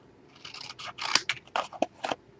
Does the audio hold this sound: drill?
no